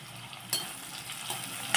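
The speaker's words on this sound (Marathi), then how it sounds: "आणि हे छान परतून घेऊया कांदा मऊ होईपर्यंत परतून घ्यायचा आपल्याला" Chopped onion with turmeric and salt sautéing over medium heat in a pan for a spicy brinjal dish, a soft low sizzle broken by a few brief spatula scrapes, close and quiet.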